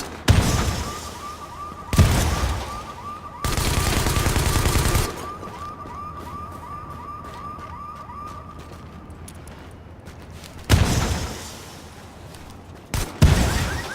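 In Tom Clancy's The Division video game, bursts of loud gunfire crack out in short clusters, separated by quieter stretches of ambient game noise with a lingering tonal hum.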